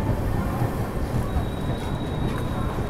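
A Howrah–Bangalore superfast mail express train pulling into a platform, a steady low rumble and rolling rail noise close by with a faint tonal whine, over a busy station background.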